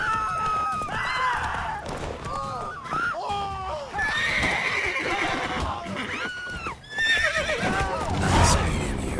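Horses in The Witcher 3 whinny and neigh repeatedly with clip-clopping hooves, several loud, drawn-out calls rising and falling over busy game sounds and shouting voices.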